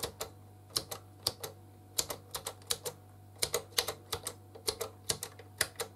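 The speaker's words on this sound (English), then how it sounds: "As you can hear, the buttons have a nice sound." Press buttons on the keypad of a grey two-tone 1981 GPO 782 Touchtone telephone click crisply and close up, about twenty sharp plastic presses in an uneven rhythm over a faint low hum, with no talking.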